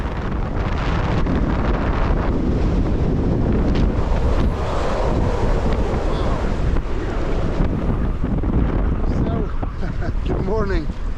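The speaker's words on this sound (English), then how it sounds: "Outside, the storm was starting to evolve." Winter storm on the North Sea buffets a sailboat with loud, roaring wind and crashing waves, heavy microphone wind rumble throughout and a voice talking over it.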